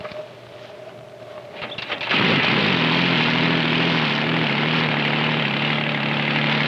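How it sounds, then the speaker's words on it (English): A helicopter readied for herding bighorn sheep starts up: a quieter engine hum for about two seconds, then a sudden loud, steady rotor and turbine roar with a strong droning tone that holds to the end. "the helicopter is all ready to go"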